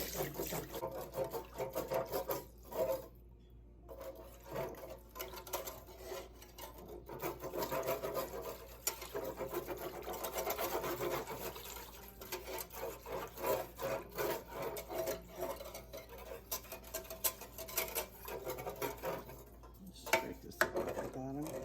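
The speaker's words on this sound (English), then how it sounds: "Time to whisk again." Turkey gravy is whisked in a pan with chicken stock, a continuous scratchy scraping and rhythmic clinking of the whisk against the metal that goes on throughout, with a brief lull partway through.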